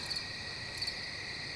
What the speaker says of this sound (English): Nothing but crickets and white noise.